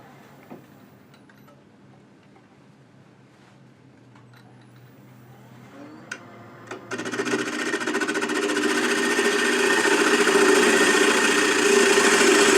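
A wood lathe spinning a piece for a DIY bird feeder while a tenon is cut, starting as a faint hum with a few light taps, then growing into a loud, steady cutting hiss as the tool bites in.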